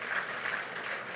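Applause fills a church service, a steady, dense wash of clapping from a congregation that runs through the whole short stretch at even loudness.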